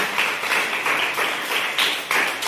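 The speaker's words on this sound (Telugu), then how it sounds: "గట్టిగా చప్పట్లు కొట్టండి." Children clapping loudly together at a Sunday school gathering, a dense burst of applause rising and falling with a few stronger surges, close and alone.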